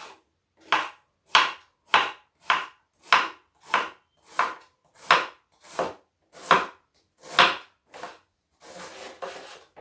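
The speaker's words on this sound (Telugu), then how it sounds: "ఈ విధంగా కట్ చేసుకోవాలి మనము సన్నగా." Cabbage sliced thinly on a board for pakodi: a dozen crisp, evenly spaced knife chops, close and clear, in a steady rhythm with no talking.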